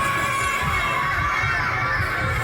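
Crowd murmur and excited shouting in a Charles Dickens audiobook, a dense, steady din of many voices with children's cries mixed in, sustained at even loudness throughout.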